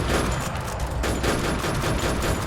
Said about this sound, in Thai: เขาใช้ปืนเดียวกับเราด้วย โอ้โห แต่ทำไมเขายิงเร็วกว่าเราวะ